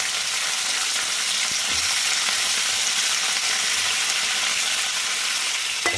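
Brinjal pieces fry in oil in a pan for a peanut masala fry, a steady, loud hiss and sizzle throughout, with faint scrapes of stirring and no talk.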